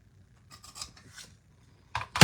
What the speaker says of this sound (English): Let me just use a pair of scissors and get it.